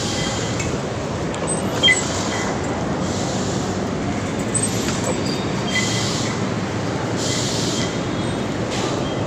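An LRT-1 light rail train runs with a steady, loud rumble of wheels on track, a faint squeal rising now and then and rhythmic clicks passing over rail joints, heard from aboard throughout.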